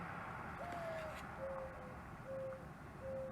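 A mourning dove calls outdoors, a series of four soft, hollow coos spaced about a second apart, moderately distant over a steady background hiss.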